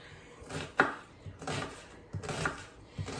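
A knife dices onion on a cutting board for a four-bean salad, with a few close, crisp chops spaced at an uneven rhythm and quiet pauses between strokes.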